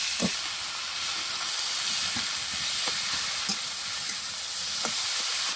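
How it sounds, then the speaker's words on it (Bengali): Soaked banana flower dropped into a pan of frying onion, garlic and chopped dried chilli, giving a steady close sizzle with a few soft stirring clicks and no talk. "পেঁয়াজ রসুন আর কুচানো শুকনো লঙ্কা ভাজা ভাজা হয়ে গেছে, এর মধ্যে দিয়ে দেবো ভাবিয়ে রাখা মোচা"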